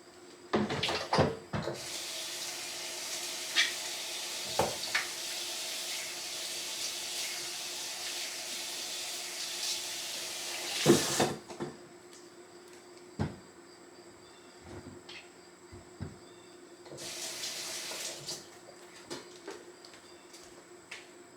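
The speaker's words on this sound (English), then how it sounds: "I'm going to rinse this off real quick." Water from a kitchen faucet runs in two bursts, a long stream and a shorter later one, as something is rinsed under it, with clinks and knocks of handling in between.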